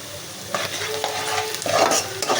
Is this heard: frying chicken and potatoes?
yes